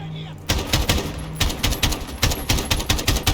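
Automatic gunfire in Call of Duty: Modern Warfare 2019, loud repeated bursts of sharp cracks that start abruptly and keep a fast, steady rhythm of shots.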